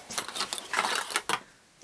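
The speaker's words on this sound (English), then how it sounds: "So let's go ahead and take a couple stitches." A Baby Lock Sashiko sewing machine stitches quilt binding in a few short, close mechanical bursts of clattering stitches separated by brief pauses.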